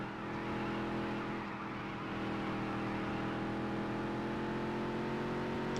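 Race car engine in the Dirt to Daytona video game, a steady sustained drone with layered harmonic whine holding high revs down a straight, loud and continuous with no talk.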